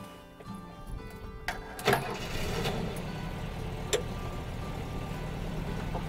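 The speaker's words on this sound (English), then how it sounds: "So let's start her up and see how easy it is to drive." A Volkswagen Combi van engine cranks over with a brief burst around the two-second mark, then settles into a steady low idle rumble that holds through the rest, with a small clunk partway along.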